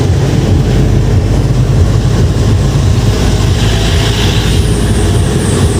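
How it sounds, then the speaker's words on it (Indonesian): A train passes close to a narrow mountain road on the way up to Bromo, giving a loud, steady rumbling roar that holds at the same level from start to finish. "Loh, ada kereta di sini cuy."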